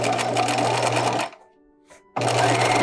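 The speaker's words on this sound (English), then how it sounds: "I'm just gonna keep sewing all the way around until I get to the other opposite side of the neckline" A sewing machine stitches around the neckline of a bodice, running loud and steady, stopping briefly with the needle down for a pivot, then starting again at full speed.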